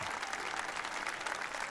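An audience giving a standing ovation at a political rally, a dense continuous wash of clapping heard from within the crowd at moderate level.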